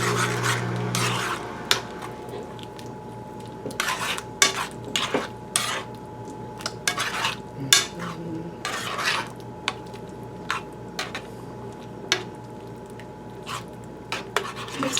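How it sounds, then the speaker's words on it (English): Small spoon scraping and clinking against a metal pot while red curry is stirred over a boiling flame; irregular rasping strokes and taps repeat close up, with a low steady hiss underneath. "stirring this all up with a small freaking spoon"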